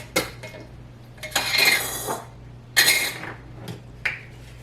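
Corn being stirred in milk in a pot, heard as several separate bursts of metal spoon scraping and clinking against the pot, with quiet pauses between them.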